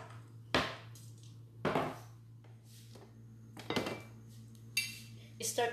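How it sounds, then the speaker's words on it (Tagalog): Eggplant is chopped into small pieces with a knife on a board for baked eggplant, four or five distinct sharp knocks spaced a second or so apart, close and clear over a steady low hum. "kailangan po natin siyang i-chop ng medyo maliliit"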